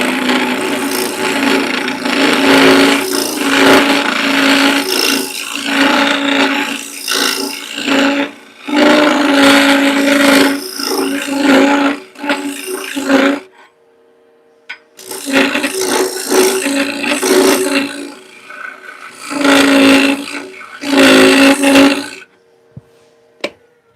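A sturdy scraper drags across a surface in repeated long, rough scraping strokes, loud and close, broken by brief pauses, with no talking.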